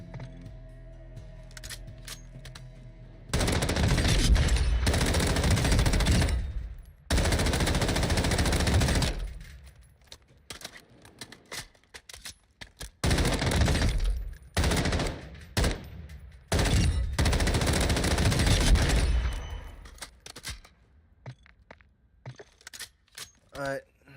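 Bursts of automatic gunfire from the video game Call of Duty Warzone, loud sustained volleys broken by short gaps, with a voice talking underneath.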